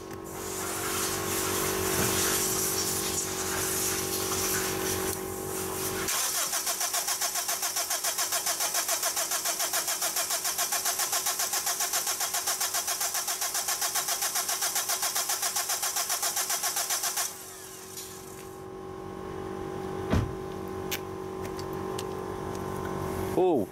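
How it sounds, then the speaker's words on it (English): A 2006 Honda FR-V diesel engine that starts poorly cranks steadily for about ten seconds, then a rapid rhythmic churning continues, loud and close, before a brief pause and some clanks. "I'm going to crank it about 10-20 seconds and we'll see what happens"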